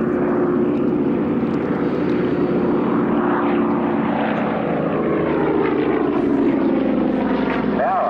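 A propeller-driven Yak aerobatic aircraft performs at the Warbirds Over Wanaka 2000 airshow. Its engine drones continuously with a shifting pitch as it maneuvers, and a commentator's voice runs over it.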